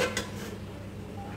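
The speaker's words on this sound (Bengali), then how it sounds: "ঢাকা দিইনি, এখন এই যে ঢাকা দিয়ে দেবো।" A metal lid clinks onto a pot of finished meat curry with ghee and garam masala, a quick pair of close, ringing taps at the start that fade into a quiet kitchen hum.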